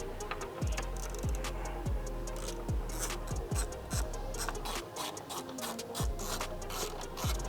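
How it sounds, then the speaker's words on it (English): T45 Torx bolts being loosened on the rear of a Porsche 992 with a ratchet: steady close rasping clicks and repeated ticking strokes in a quick, uneven rhythm, loud and without any talking. "what we can do is remove the 4 T45s"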